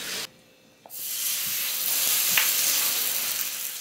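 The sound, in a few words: jeon pancakes sizzling while frying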